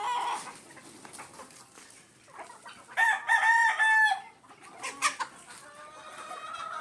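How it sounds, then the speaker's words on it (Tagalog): Chickens in a multi-purpose pen on a game farm break into a commotion, with busy clucking and squawking and a loud burst of crowing in the middle, all fairly close. "Nagkagulo na nga ang mga manok"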